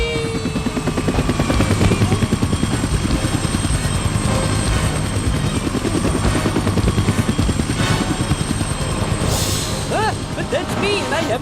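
A cartoon helicopter in flight gives off a continuous rapid rotor chop at close range for the whole stretch, with a few whistling sound effects near the end.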